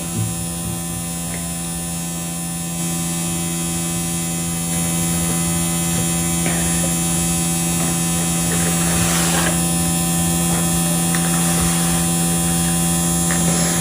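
A small electric fan runs steadily indoors, a constant loud whirring hum with strong tonal drone that barely changes over the whole stretch, no speech over it.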